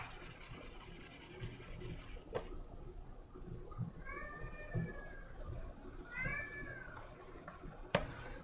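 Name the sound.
cat meowing from another room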